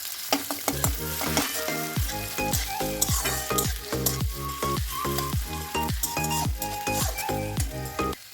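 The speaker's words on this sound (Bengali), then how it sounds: "চলুন পেঁয়াজটাকে ভাজা যাক।" Thinly sliced onions fry in a pan with a constant sizzle and a rapid run of repeated scraping strokes as they are stirred, close and steady throughout.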